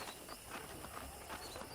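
Horse hooves from Red Dead Redemption thud in a quick, even clip-clop rhythm for under two seconds, moderately loud against a soft ambient background, with no speech.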